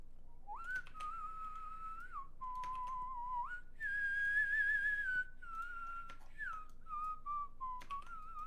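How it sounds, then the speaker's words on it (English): Someone whistles a wavering melody up close, in several sustained phrases separated by short pauses, with no other sounds around it. "Cue the whistling."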